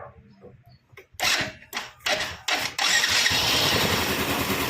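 A Yamaha Mio i 125 scooter engine cranks in several short bursts before catching and settling into a steady, loud running idle, close up, after a quiet start.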